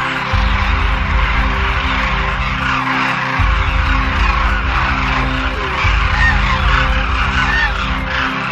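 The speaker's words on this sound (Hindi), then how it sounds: "स्थानीय तौर पर कुर्जा नाम से जाने जाने वाले हजारों डेमोइसल क्रेन" A large wintering flock of demoiselle cranes (kurja) at Khichan, Rajasthan gives loud, overlapping honking calls in a continuous chorus, with a low rumbling background pulsing in and out.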